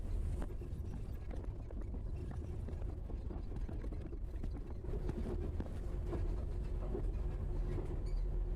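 A train in the horror game Chilla's Art: The Ghost Train rumbles along at a steady pace, a continuous low, droning roll with faint rattling that lasts throughout, with no voices.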